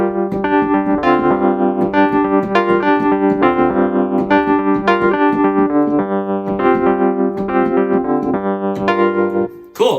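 Keyboard playing the bass line and chords of a song together, with a steady syncopated low pulse under rhythmic chord stabs, loud and close, without any talking.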